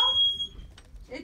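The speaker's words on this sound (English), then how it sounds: "Somebody put my smoke alarm back up." A short high-pitched smoke alarm beep, loud and close, cutting off quickly, followed by brief voice sounds and background noise.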